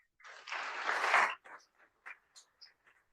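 A burst of audience applause at a conference session on AfCFTA implementation strategies: a dense clapping swell for about a second, then a handful of scattered, fading individual claps.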